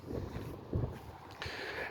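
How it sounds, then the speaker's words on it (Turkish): Strong wind buffets the microphone beside a chicken coop, a steady low roaring rumble with a few stronger gusts and no speech. "rüzgar çok"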